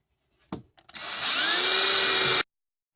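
Power drill boring center-punched holes in a metal part for an Origo pot holder, a few short clicks and bumps before a steady high-pitched whirring grind that cuts off sharply, with no voices.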